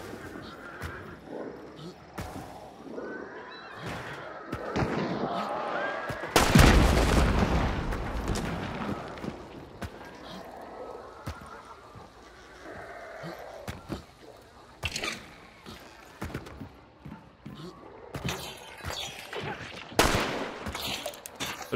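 Gunshots from the Hunt video game: scattered loud bangs and bursts, with one heavy blast near the middle and further sharp shots later, while voices talk in between.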